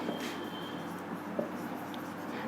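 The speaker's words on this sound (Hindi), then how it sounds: "पहले डेफिनेशन लिखते हैं।" Chalk or marker scratching steadily across a classroom board as a definition is written during a chemistry lesson on acids, bases and salts, a soft continuous scraping with small taps, fairly quiet against room noise.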